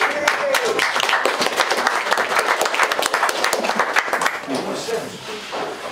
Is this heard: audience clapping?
yes